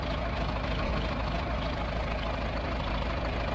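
A farm tractor engine idles steadily in a farming game, a continuous low, even rumble at constant loudness throughout with no talking.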